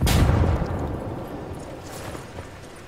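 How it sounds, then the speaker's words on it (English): A flashbang grenade goes off in the Ghost Recon Wildlands video game, a loud booming blast at the start that decays into a long rumbling tail. "Lobbing a flashbang."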